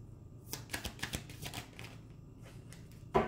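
Tarot cards shuffled and one card drawn from the deck, a run of soft papery riffles and slides, then a sharper snap near the end; close and quiet with no talking.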